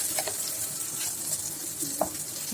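Egg batter hitting a hot pan for an egg breakfast dish, a steady broadband sizzle running throughout with faint stirring scrapes and a small clink near the end, close and moderately quiet.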